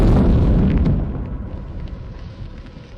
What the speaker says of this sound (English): Such a system was found in a dense forest and was spectacularly destroyed by a HIMARS strike.